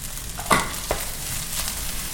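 Broccoli stir-fried for vegetable fried rice, a steady sizzle in a hot pan with a couple of brief scraping stirs, no talking.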